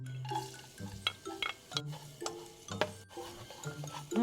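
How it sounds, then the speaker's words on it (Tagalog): Garlic frying in hot cooking oil in a pan, a light sizzle punctuated by clinks of a utensil stirring against the pot, close by with no talking. "paglagay tayo ng mantika. Bawang."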